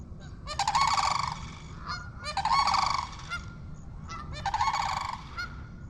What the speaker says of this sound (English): There's them cranes.